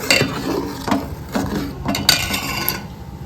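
A spoon stirs boiling milk with four cardamom pods in a pot while payesh is being made, giving a few soft scraping and clinking strokes against the pot at an irregular pace, close and fairly quiet.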